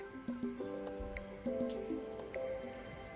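Fish roe being stirred together with ginger, garlic and green chili paste, giving soft wet squishing and squelching with a few sharper clicks of the utensil over a steady background hum.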